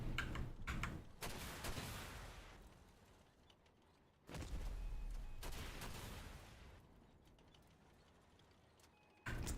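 Rapid gunfire from the Pyrelid weapon in a video game, arriving as two long sustained bursts with a quieter stretch between them and a fresh burst starting at the very end.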